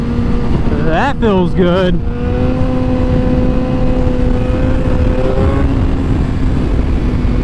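A motorcycle engine drones loudly and steadily up close as the rider attempts a wheelie, with a short burst of revs early on, and the rider speaks briefly over the engine noise.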